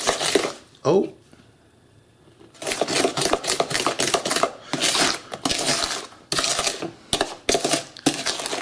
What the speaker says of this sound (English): we're going to mix all of this again